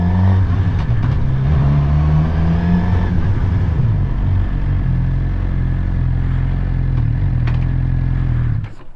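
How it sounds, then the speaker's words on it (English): Suzuki GSX-R 600 motorcycle engine idling loud and close in a steady low rumble, the pitch dipping and surging slightly as the rider works the clutch to get back into first gear. "I just pull the clutch in a little bit, past the friction zone where the bike is stopped, and then get back to first."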